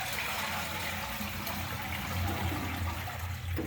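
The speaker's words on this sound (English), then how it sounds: "Yeah, we'll give it a flush." Toilet being flushed during plumbing work, a steady loud rush of water that runs the whole time with no speech over it.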